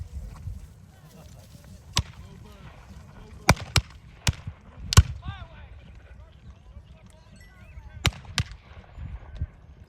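Muskets firing at a Civil War reenactment several hundred yards off, sharp cracks arriving singly and in loose clusters over a low outdoor background, with people talking nearby.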